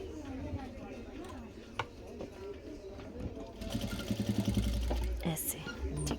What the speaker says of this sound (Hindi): इस तरह से आपने इसको फोल्ड किया और इसमें सिलाई लगा ली